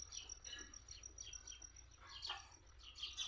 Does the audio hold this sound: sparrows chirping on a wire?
yes